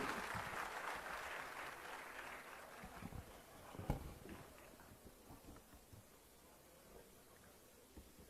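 Crowd applause greeting the chief minister at a public event for laying a museum foundation stone and a job fair, broad clapping that starts full and gradually thins and fades over several seconds.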